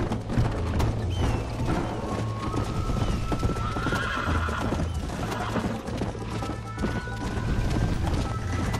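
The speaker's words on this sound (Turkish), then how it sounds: "Bu at bizi tüketiyor." Horse hooves clip-clop steadily alongside repeated neighs and whinnies in the Red Dead Redemption video game, set against constant game ambience and a low music drone, with faint speech-like sounds in the background.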